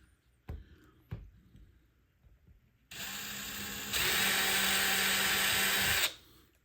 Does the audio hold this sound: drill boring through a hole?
yes